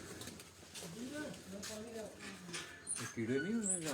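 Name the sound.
pigeons cooing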